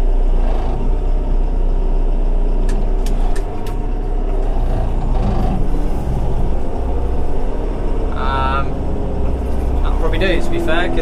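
Fendt 724 tractor hauling a grain cart in third gear, a constant low engine rumble and road noise heard from inside the cab, with a few rattles and clunks along the way.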